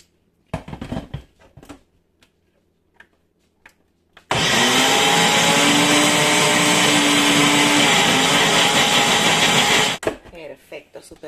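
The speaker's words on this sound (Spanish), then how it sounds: "vamos a licuar las espinacas" A loud, steady blender whirs for several seconds, chopping spinach, with brief speech and clatter before and after the motor runs.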